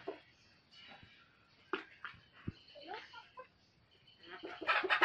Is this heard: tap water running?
no